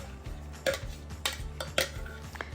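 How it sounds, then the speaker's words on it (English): Pimento cheese, mayonnaise and pimentos are stirred together in a bowl, giving a few sharp utensil clinks against the dish over soft scraping, with a faint low hum underneath. "And then I'm going to mix everything together."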